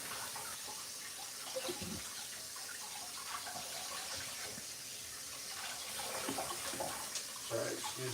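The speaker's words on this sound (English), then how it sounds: "excuse the water noises" Water runs steadily from a kitchen tap while vegetables and dishes are rinsed, a constant close hiss and splash with occasional clatters, and a voice talking faintly underneath.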